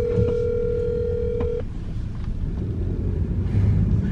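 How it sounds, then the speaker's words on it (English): A phone rings with a steady electronic tone for about a second and a half, then stops. A low rumble and background noise continue underneath with no talk. "I know you hear this phone ringing"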